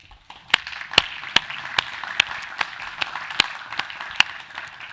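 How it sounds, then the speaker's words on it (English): Audience applause at an international ocean conference, a soft wash of distant clapping from a large hall, punctuated by sharp, regularly spaced individual claps close by. "Applause."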